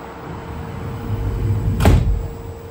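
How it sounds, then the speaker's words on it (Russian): Doors of a Moscow monorail train slide shut with a single thud near the end, after a low rumble of the train and a steady tone. "Осторожно, двери закрываются."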